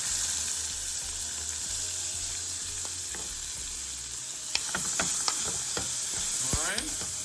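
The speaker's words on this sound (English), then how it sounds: "Then we're gonna go in with some peppers," Peppers, onion and garlic fry in a pan with a steady, loud sizzling hiss throughout, joined by scraping stir strokes and small crackles in the second half; no voices.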